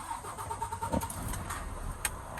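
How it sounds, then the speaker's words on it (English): Truck engine starting during an air brake check, a brief cranking burst followed by a low, uneven engine rumble and a few sharp mechanical knocks, fairly quiet and without talk. "Start the truck."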